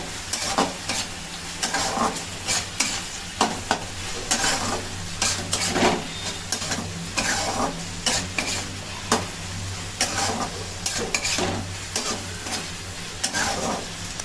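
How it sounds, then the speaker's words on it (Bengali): Mutton curry with mutton masala is stirred in a pan, a loud near sizzle punctuated by rhythmic scraping strokes of a spatula against the pan throughout, no talking. "মটন মশলা এখন দেওয়া হলো, আবার একটু নাড়িয়ে নেওয়া হচ্ছে।"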